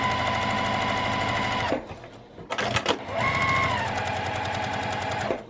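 Sewing machine running straight stitches through a quilted zipper pouch, loud and close: a steady buzzing run, a brief pause with a few clicks, then another long continuous stretch of stitching.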